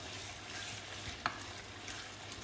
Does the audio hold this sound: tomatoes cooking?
yes